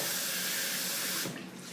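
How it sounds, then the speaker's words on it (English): A beauty tool rinsed under a running tap, a steady hiss of water splashing into a sink that drops off abruptly near the end, close and fairly loud. "And I'm just going to rinse it out"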